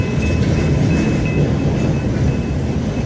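A BNSF or UP freight train rolls past at Fremont, Nebraska, a heavy, steady low rumble filling the whole stretch, close and loud, with a thin high whine holding above it and no voices.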